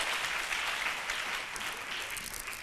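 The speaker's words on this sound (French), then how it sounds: "on applaudit fort pour lui" Children in a studio audience clapping loudly together, a dense, steady wash of applause that holds at full strength throughout.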